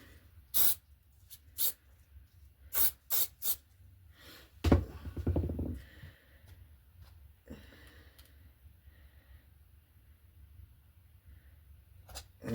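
Short hissing bursts of spray during an RC glider build, several quick puffs near the start, a longer louder hiss midway, then quiet handling with a couple more brief puffs at the end.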